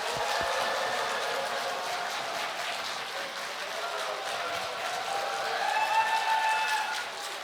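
A church congregation claps and cheers for a guest pastor at a Sunday evening service, a steady wash of applause with rising cheers toward the end.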